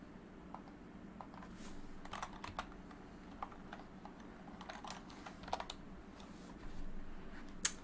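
A computer keyboard is typed on in quick irregular bursts of clicks, fairly faint over a low room hum, no talking.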